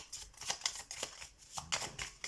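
Oracle cards riffled and drawn by hand in quick, close bursts of papery slaps and rustles, several irregular flurries with no voice over them.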